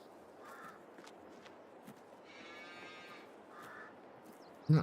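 Hungry cattle on a farm give a faint, distant moo in the middle of a quiet outdoor stretch, with soft shuffling or footstep-like noises and a low background hiss throughout.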